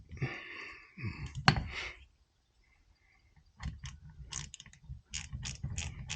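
Ratchet tightening the pin holder on a rebuilt front brake caliper from a Honda VF750 V45 Interceptor, heard as close bursts of rapid clicking with a loud snap, a pause, then several more clicking runs.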